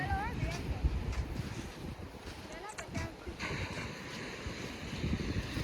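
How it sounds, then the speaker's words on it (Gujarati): Sea waves wash onto sandy, shell-strewn Shivrajpur beach near Dwarka in a steady broadband roar, with wind buffeting the microphone and a few people talking over it. "અને દરિયાનો તમે અવાજ સાંભળી શકો છો"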